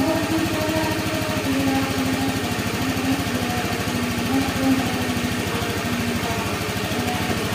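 A Honda Beat FI automatic scooter engine idles roughly and steadily, its harsh, uneven clatter loud and close throughout with no speech.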